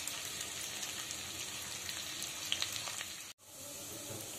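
Chopped onions sizzle steadily in hot ghee for a paneer butter masala, a dense, even crackle with brief louder pops and a sudden short dropout near the end, with no voices.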